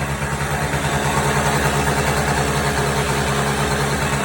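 An Alpha Sports LG 50cc engine running on mixed gas with a newly fitted carburetor and auto choke idles steadily and loudly up close, a constant buzzing drone with no speech.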